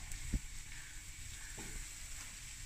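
Spices sizzle gently in a pot for butter chicken curry, a soft, steady frying hiss broken by a couple of brief stirring knocks, with no one speaking.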